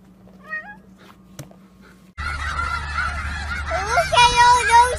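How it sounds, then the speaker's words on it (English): Farm fowl calling loudly after a quiet start, honking and clucking cries overlapping in a busy, close chorus that builds toward the end, with a faint voice early on. "Look at all those chickens."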